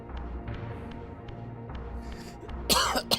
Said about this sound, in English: No matter how hard I cough, no matter how painful it is, just still have to cough